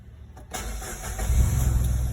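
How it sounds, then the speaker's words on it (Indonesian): A parked car's engine cranks and catches after a short silence, then settles into a loud, steady idle as it warms up to charge the battery. "Paling tidak dipanaskan dengan cara kita hidupkan mesin"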